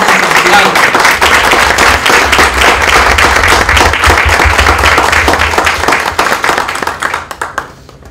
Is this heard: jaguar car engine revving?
no